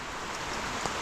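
Dense, steady rain hisses without a break, a heavy downpour close by over rice paddies, with no voices.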